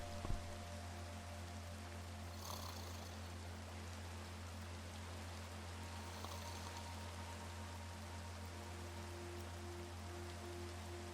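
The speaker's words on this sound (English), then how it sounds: "Nighttime and raining." Steady rain falls at night in Minecraft, a soft continuous hiss of drops with a low background drone, quiet and unbroken throughout.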